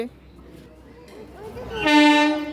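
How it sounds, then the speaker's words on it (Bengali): An arriving train sounds a horn with a bright, sustained blare near the end, after a low rumble under nearby talk. "ওই দেখো ট্রেন মামা চিকু ট্রেন মামা দেখেছো ওই দেখো আসছে"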